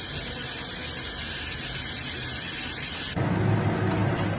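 Pressure cooker boiling banana flower lets out a continuous loud hissing whistle of steam for about three seconds, then the tone shifts abruptly into a rougher, lower spray with brief high squeals near the end.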